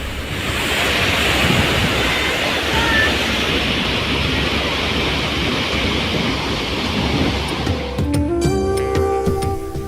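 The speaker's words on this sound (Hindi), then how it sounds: "पानी का ये अपार जलधारा कैसे सब कुछ बहा लेने की ताकत समेटकर हाहाकार मचा रही है" The Mahadev Khoh waterfall at the foot of the Kaimur hills, swollen by torrential rain, roars continuously and loudly. Near the end, a few tonal sounds rise over the roar.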